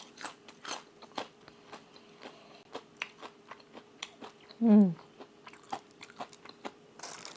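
Crunchy food bitten and chewed close to the microphone, with a steady run of sharp crackling crunches; a short voiced hum rises midway.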